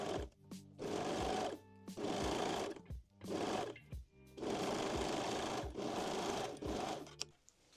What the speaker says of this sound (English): sew the back crotch seam